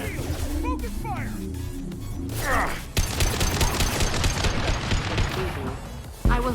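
Rapid gunfire rattles through a firefight in the Mass Effect Legendary Edition video game, dense bursts under shouted voices, loud and continuous across the scene.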